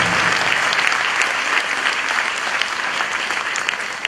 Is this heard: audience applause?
yes